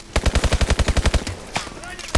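Rapid automatic gunfire in Call of Duty: Advanced Warfare, a loud burst of about a dozen evenly spaced shots lasting just over a second, followed by a lone sharper crack and a few scattered thuds.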